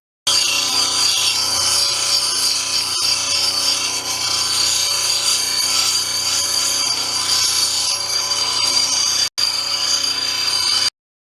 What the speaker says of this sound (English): The 220 grit wheel is used to finish the rounded shape and to remove scratches made by the 80 grit wheel.